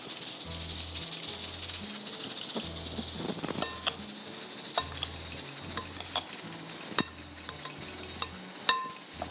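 Chopped potato, onion, coriander and green chili are mixed in a bowl, giving soft scraping and stirring with scattered clinks and taps of a utensil against the bowl, close by and without talk.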